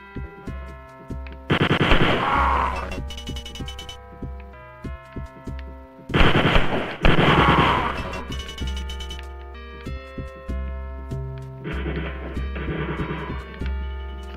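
Rapid machine-gun bursts from Wolfenstein 3D rattle loudly in three long volleys over the game's looping music, with a few single shots in between.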